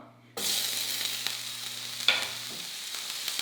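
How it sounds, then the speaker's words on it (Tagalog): Crushed garlic, pounded in a mortar, hits hot oil in a pan for dinuguan and bursts into a loud, steady sizzle after a brief quiet start, with a few sharp pops and crackles. "medyo mainit na yung pan kaya nakita niyo yung mantika. Nagre-react agad. Ilalagay ko na agad itong bawang."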